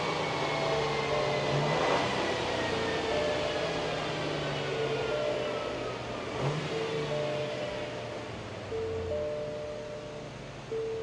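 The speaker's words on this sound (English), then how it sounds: "The first QX80 on a dyno." A 2025 Infiniti QX80 runs on a dyno, its engine droning loudly and steadily with shifting tones as speed changes, accompanied by a constant whine of the rollers.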